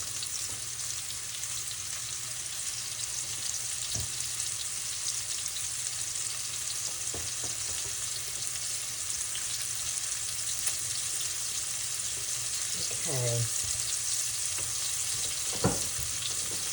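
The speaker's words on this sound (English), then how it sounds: "We're going to try and sear the meat here." Beef chunks sear in a hot pan for an Asian braised beef dish, a steady close sizzle that fills the whole stretch, with a few faint clinks and scrapes of utensils.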